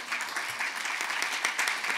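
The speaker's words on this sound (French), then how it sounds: "Elle arrive et on l'applaudit" At a conference on children and domestic violence, an audience claps for a professional boxing world champion stepping on stage; brisk, even applause at moderate distance, with no talking over it.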